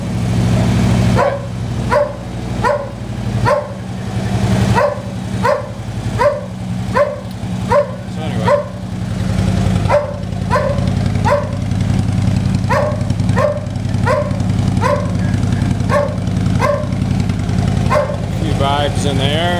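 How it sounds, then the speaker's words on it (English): Dogs bark repeatedly in sharp bursts, some in quick runs, over the loud idle of a fuel-injected 2011 Harley Street Glide with RUSH slip-on mufflers rumbling steadily underneath. "once the dogs stop barking, that there will be a difference to the ear"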